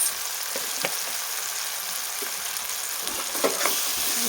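Eggplant curry masala with a little coriander powder stirred in a pan, a steady bright sizzle of frying with several scraping spoon strokes against the pan, close and alone.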